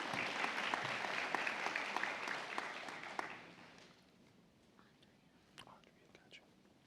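An audience at a nursing college spring convocation applauds a master's graduate being hooded. The applause is dense and lively for about three seconds, then quickly fades to scattered claps and faint murmuring.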